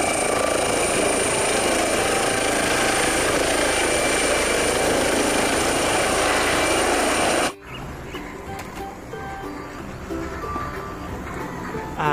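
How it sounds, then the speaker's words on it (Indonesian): A helicopter roars loud and steady with whirring rotor noise, then cuts off abruptly, leaving quieter street sounds with faint clatter. "helikopter."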